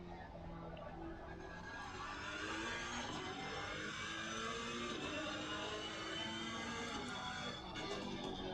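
Race car engine in a GT3 racing video game at Zandvoort, a steady, loud mid-pitched engine drone with continuous revving held throughout, no talk over it.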